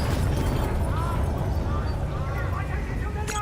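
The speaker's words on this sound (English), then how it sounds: "we have multiple explosions across the facility" Heavy, continuous rumbling explosions across a facility in Call of Duty: Black Ops 3, loud and low, with faint whistling tones and a sharp crack at the end.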